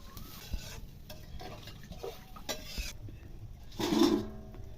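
Crab and fish curry broth simmers in a pan over a stove, a steady low sizzle and bubbling with occasional stirring and utensil scrapes, swelling briefly louder near the end, no talk.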